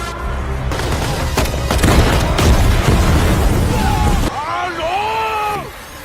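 A bazooka blast in a film battle scene sets off a loud, sustained rumble of booms and crackling gunfire for several seconds, then cuts off sharply to quieter shouting voices.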